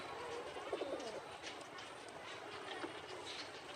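Pigeons in a closed loft room coo softly and repeatedly, a faint, low warbling against a quiet hiss of background noise.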